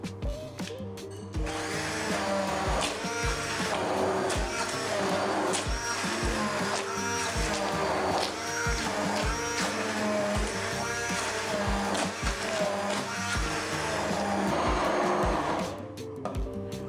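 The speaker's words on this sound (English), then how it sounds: "Get your Immersion blender" An immersion blender whirs continuously through leek and potato soup for over a dozen seconds, a steady buzzing drone with faint rhythmic knocking underneath.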